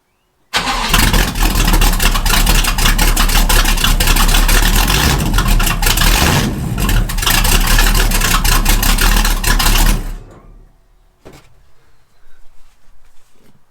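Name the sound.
Chevrolet Chevelle muscle car engine with open exhaust pipe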